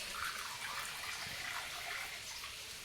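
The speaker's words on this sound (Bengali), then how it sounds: "এই পাত্রে মশলা বাটা ছিল ধুয়ে আর জল দিয়ে দিচ্ছি" Water pours from a tap into a pot that held ground spice paste, rinsing it out while cooking chingri posto, a Bengali prawn and poppy-seed dish; a steady close gush and splash with no talk.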